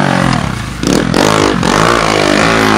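A pit bike ridden around a track at home, its small engine revving loudly and close with a buzzing, rising and falling pitch and some rattling, continuous throughout without talk.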